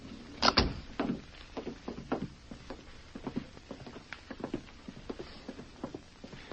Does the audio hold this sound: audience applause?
no